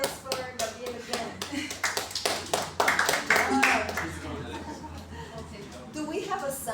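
Classroom audience clapping for a student after an oral exam presentation, a burst of scattered handclaps with chatter and soft chuckles mixed in.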